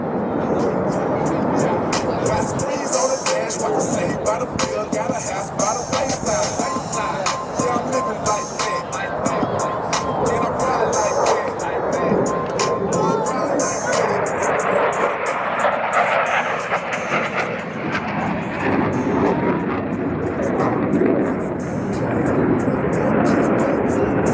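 Two airshow aircraft cross over show center at the New Orleans Airshow after a 270-degree pull at six g, producing a loud, steady, roaring engine noise that fills the whole stretch, with a voice over it.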